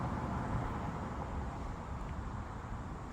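A car drives down a rural road past a roadside mailbox beside a garden, a steady, close broadband rumble of tires and engine lasting throughout with no talk.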